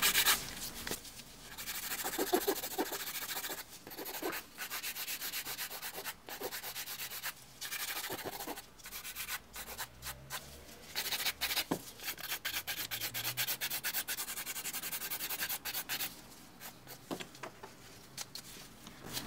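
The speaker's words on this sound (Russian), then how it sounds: "Смотрю сверху и просто пилю красивый миндалевидный кончик." A nail file rasps quickly back and forth while shaping an almond-shaped nail tip, producing close, continuous scratchy strokes in an uneven rhythm with brief pauses over nearly twenty seconds, without speech.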